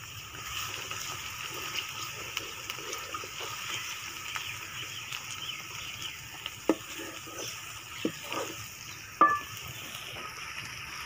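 Onion, green chili and ginger-garlic paste frying in a pan, a steady low sizzle with a faint bubbling hiss and a few sharp clinks of a utensil near the end.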